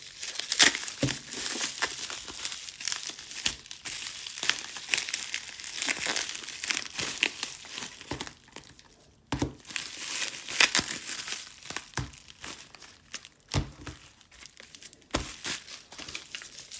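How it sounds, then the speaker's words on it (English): Bubble wrap crinkling as a package is opened, continuous close crackling and rustling with several sharper snaps, loud and without speech. "I don't want to cut through the bubble wrap."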